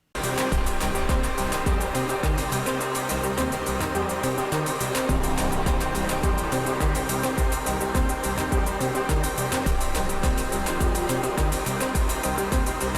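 Dense electronic music plays steadily throughout, with a pounding low beat and bright synth layers, loud and continuous with no voices.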